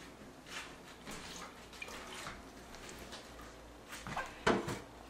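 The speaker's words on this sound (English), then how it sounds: "now I'm gonna add to this 1 cup of boiling water" One cup of boiling water is poured into chocolate cake batter in a home kitchen, a soft, faint liquid pour with light splashing and a brief clink near the end.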